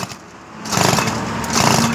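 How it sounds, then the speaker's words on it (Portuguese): A Mobilete moped's small two-stroke engine and exhaust run close and loud, a raspy buzzing drone that revs up partway through and holds steady, with no talking over it. "só pra nós ver o escapamento ronco dela"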